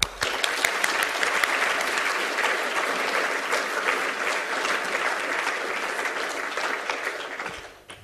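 A lecture audience claps steadily in dense, sustained applause that fills the room, welcoming a speaker, then fades out at the end with no voices over it.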